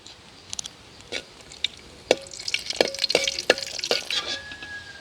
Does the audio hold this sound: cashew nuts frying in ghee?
yes